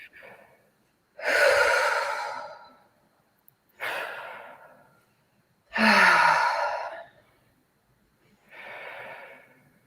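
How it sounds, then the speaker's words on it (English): A person takes slow deep breaths, drawing air in through the nose and letting it out through the mouth, with four long, loud, close breath sounds separated by silent pauses. "Take a few deep breaths. Go in through the nose, out through the mouth."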